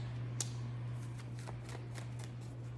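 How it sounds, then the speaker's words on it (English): A deck of tarot cards riffled and shuffled in a few quick bursts, soft flutters over a steady low hum, no voices. "One more shuffle. Too many cards. One more shuffle."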